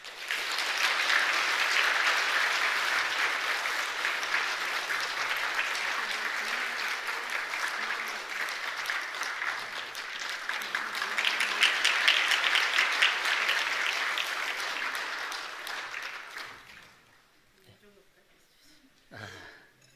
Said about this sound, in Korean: 저희 여러분들 좀 감사한 마음으로 큰 박수로 한번 격려하겠습니다